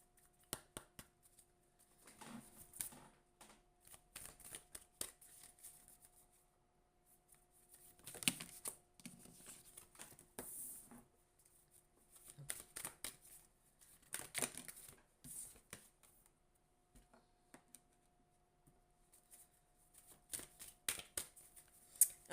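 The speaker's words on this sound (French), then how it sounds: "Un instant, je brasse les cartes et je vous dis." Tarot cards shuffled by hand in a series of crisp riffling and flicking bursts, with quiet pauses between, close and fairly soft, no talking.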